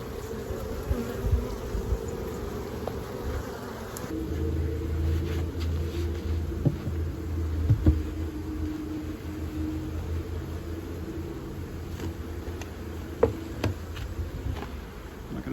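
Honeybees buzz steadily around a beehive in spring, a dense continuous drone close by with occasional louder passes of single bees near the microphone.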